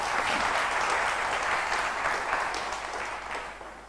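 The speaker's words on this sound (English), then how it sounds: "So clapping to this team as well." Audience at a company town hall applauds a project team, a dense wash of many hands clapping that holds steady and then slowly fades, heard alone without talk.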